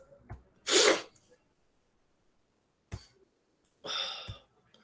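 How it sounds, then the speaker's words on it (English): A person with a cough and cold sneezes sharply once at close range, followed after a quiet pause by a short cough or throat-clearing and then another sneeze-like burst. "That is the reason I'm sneezing in between."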